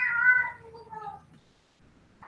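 A house cat gives a clear drawn-out meow followed by a shorter second meow, close and fairly loud, then fades to quiet with a faint noise at the end.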